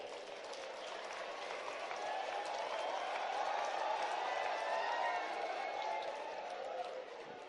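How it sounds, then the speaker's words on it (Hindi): An audience at a health-service conference claps for BAMS students, a sustained, fairly distant wash of applause that swells in the middle with indistinct crowd voices mixed in. "बीएमएस वाले भी जोरदार ताली आपके लिए भी बजाओ"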